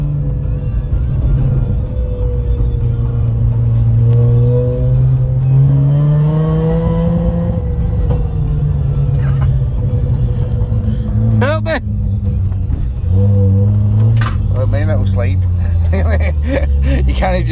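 A front-wheel-drive car's engine revs and rumbles loudly and continuously throughout, with pitch rising and falling as it is driven hard, while voices talk over it.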